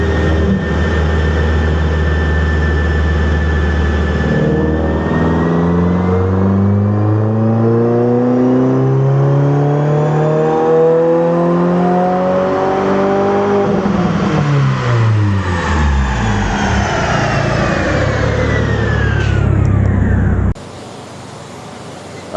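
A 2022 Subaru WRX tuned to run on ethanol revs through a full dyno pull, its engine note climbing steadily for many seconds before peaking and dropping off, loud and close with no talking.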